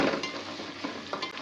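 Three big onions' worth of slices frying in hot oil for a large ten-kilo batch of chicken biryani, giving a steady close sizzle with soft stirring scrapes and small clinks.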